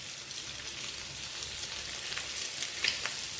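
Potato and egg being fried and stirred together in a pan, a steady close sizzle with a few light scraping clicks of the spoon, and no voices.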